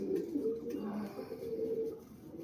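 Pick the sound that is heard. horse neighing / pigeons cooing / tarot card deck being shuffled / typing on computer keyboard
pigeons cooing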